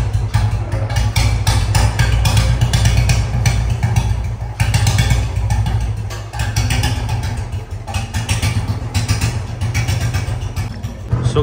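A motorcycle engine runs steadily and loudly nearby after a kick start, its rough idle thrumming without a break for the whole stretch.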